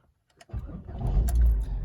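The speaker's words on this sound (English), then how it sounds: "but if you start the engine now" A Ford Focus Mk2 facelift engine cranks briefly and catches, then settles into a loud, steady idle close by, after a few faint clicks and a moment of quiet.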